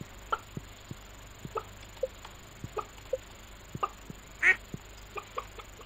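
Ducks in the farming game Stardew Valley quack in short, evenly spaced calls, a dozen or so crisp blips over a quiet background, with one brighter, louder note partway through.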